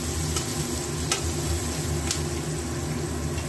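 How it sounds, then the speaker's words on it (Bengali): Onions frying in a pan while cooking Kalmi saak (water spinach), a steady close sizzle with occasional stirring scrapes, no talk. "একটু ভাজা ভাজা হয়ে এসছে"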